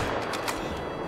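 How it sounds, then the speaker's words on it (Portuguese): A single .243 rifle shot in the hunting game TheHunter Call of the Wild, a loud, sharp burst with a brief ringing tail, filling the short moment alone. "Vamos ver, vamos dar o tiro aqui."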